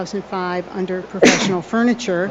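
A single sharp sneeze bursts out in the middle of a municipal courtroom hearing, loud and close, surrounded by a man's steady speech before and after.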